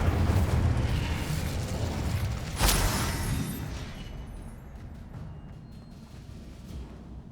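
Spell blasts in the video game Hogwarts Legacy: a dense, rumbling barrage of magical explosions with one sharp, loud burst near the middle, fading into a lower, steadier churn toward the end.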